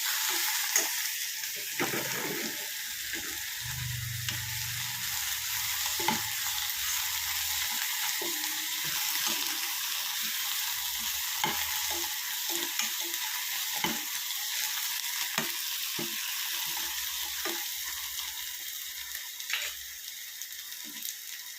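Sambar cheera (Ceylon spinach) is sautéed in a pan, giving a continuous bright sizzle with rhythmic scraping and clicking stirs of a spatula against the metal, with no talking.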